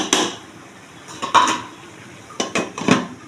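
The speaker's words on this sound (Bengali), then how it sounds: "এখন আমি ঢাকা দিয়ে দেবো এটাকে" A lid set on a cooking pot of bottle gourd and prawns, a few sharp metallic clanks and rattles in quick bursts, close and clear with no talk.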